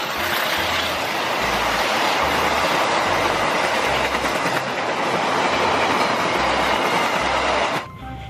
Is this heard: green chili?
no